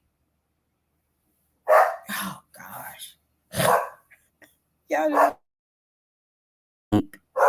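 A dog barks indoors in loud, close bursts separated by pauses, with someone speaking briefly between them.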